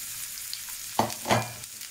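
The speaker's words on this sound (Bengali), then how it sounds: "তো তেল দিয়ে দিচ্ছি, দিয়ে সেই রসুনগুলো আমি ভেজে নিচ্ছি" Garlic fries in oil in a pan for a Bangladeshi dish, giving a quiet steady sizzle. Two brief louder crackles come as it is stirred, with no talking.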